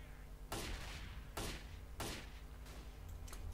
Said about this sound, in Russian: хотя слышу ответные выстрелы